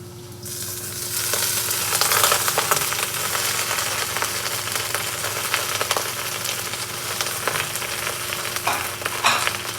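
Snow pea leaves stir-frying in hot oil, a loud, continuous close sizzle with crackling pops and tossing, steady from start to end over a low kitchen hum.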